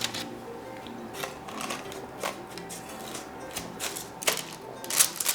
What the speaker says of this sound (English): We're going to cut off with the bench scraper a little bit of the edges